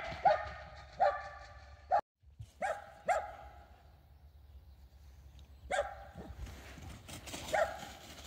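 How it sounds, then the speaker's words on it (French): A dog barks repeatedly outdoors at a moderate distance, single sharp barks spaced irregularly with short quiet gaps between them. "il y a un coco qui aboie tout le temps"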